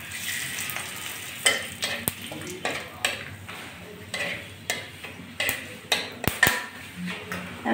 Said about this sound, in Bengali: এই যে লবঙ্গ, এই যে দারচিনি আর এলাচ তেলে ফোড়ন দিয়ে দিলাম, আর দিচ্ছি কিছুটা তেজপাতা।